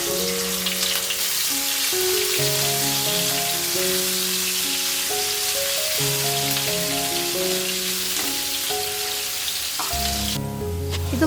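A piece of ginger and four crushed garlic cloves sizzle in hot coconut oil for a chicken dish, a steady hiss and crackle running beneath prominent background music throughout.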